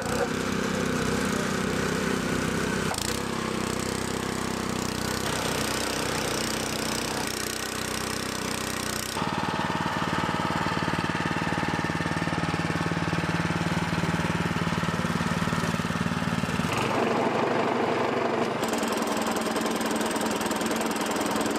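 Eliet fine turf lawn mower with its petrol engine running, a loud, steady, rattling mechanical drone close by that shifts in tone a few times, with no talking over it.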